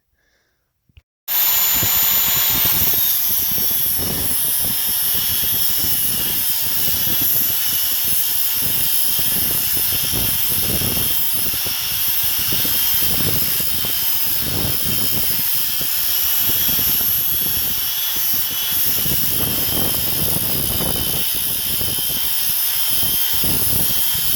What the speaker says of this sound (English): 4-inch angle grinder with a 60 grit flat disc just to clean it up and sharpen this edge up some